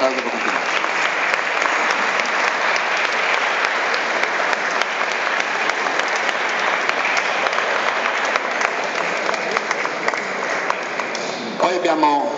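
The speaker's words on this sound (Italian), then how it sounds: "l'applauso può continuare, l'applauso può continuare" Audience applause for a parish church choir at a church event in Boccadasse, a dense, steady roar of many hands clapping throughout, loud and close, with no talk over it.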